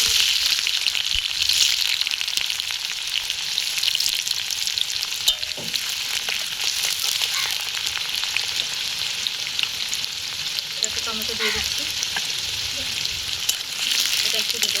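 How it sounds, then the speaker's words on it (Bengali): Chopped onions fry in hot oil in a home village kitchen, with a dense, continuous sizzle and occasional stirring scrapes and clicks throughout. "এবার তেল গরম হয়ে গেছে পেঁয়াজ কুচি"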